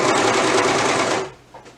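A sewing machine runs loudly and steadily for just over a second, then stops abruptly, leaving faint room noise.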